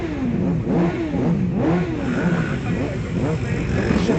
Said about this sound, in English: Bisat Always in his Honda CBR 150.